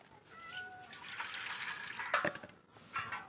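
Water is poured from a small vessel into a container for garden plants: a faint, quiet splash that swells for about a second, then a brief final trickle.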